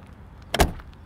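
A Tata Nano car door is shut once with a single solid thud, close and brief amid quiet surroundings.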